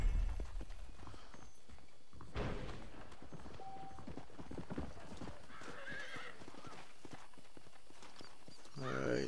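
Horse hooves clip-clopping at a walk in the Red Dead Redemption video game, a steady close rhythm with a neigh, and someone talking over the game sounds.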